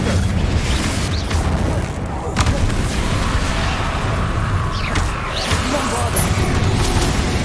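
Confringo blasting spells fired in Hogwarts Legacy, a run of booming bursts and crackling impacts in a dense, noisy game battle, with speech-like voices and effects mixed throughout.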